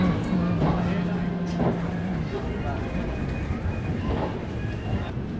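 Interior of the Poorva Express passenger train running on rails through Jharkhand, with a loud steady rumble and rattle, faint rhythmic clacks and a low hum, while voices talk throughout.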